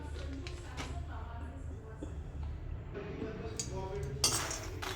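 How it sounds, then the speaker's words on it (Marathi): Dry foxnuts (makhana) roasting in a kadhai on a gas stove, with steady rattling and clinking as they shift in the pan, a louder clatter near the end. "पहिले मखाणे टाकून घ्यायचे आहे मखाणे भाजून घेऊया"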